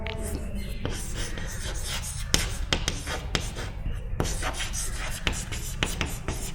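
Chalk or marker strokes on a board during a maths lecture give sharp, irregular taps and scratches close by, set against a steady hiss of room noise while a voice speaks low under it.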